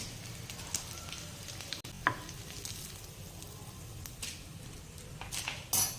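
Farali cutlets frying in hot oil, a soft steady sizzle running throughout with a few faint clinks and taps of utensils, moderately quiet and close.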